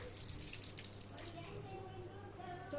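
Thin running water trickles steadily from a tap into a bottle, with a faint hiss and low background hum throughout.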